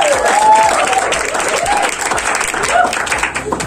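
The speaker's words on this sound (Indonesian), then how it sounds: "Kasih tepuk tangan dulu dong." Audience applause at an afternoon gathering of a foundation's extended family, with an orphanage and special-needs school in Indonesia, steady, dense clapping from a crowd, with some voices mixed in throughout.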